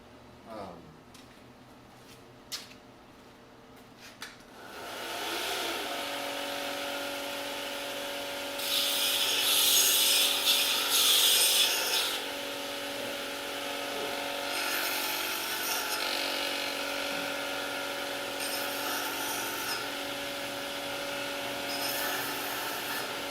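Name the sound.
dressing the tip of a blacksmith's punch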